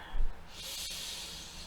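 A person draws in a deep breath during a calm counseling session, a close airy inhale that rises into a long, soft, steady hiss after a brief nasal snort at the start.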